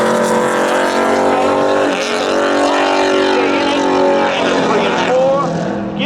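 A Subaru launches off the line at a Seekonk Speedway spectator drag race, its engine revving loud and rising in pitch over several seconds, heard under a track announcer's commentary.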